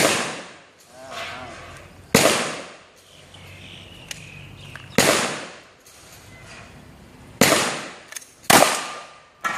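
Gunshots at an outdoor shooting range: about six loud, sharp reports spaced a couple of seconds apart, some in quick pairs, each ringing out with a decaying echo, with people talking in between.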